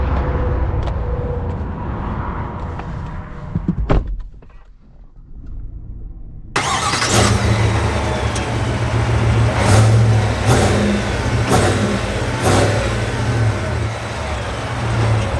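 A 2021 Cadillac Escalade engine quiets briefly, then starts and pulls away, its steady road rumble and drive noise continuing close and loud with a few sharp knocks through the rest.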